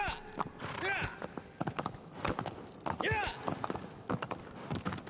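A horse's hooves clip-clop in the video game Shadow of the Colossus as the animal moves at a brisk pace, with a brief whinny woven in and a person talking over the game sounds.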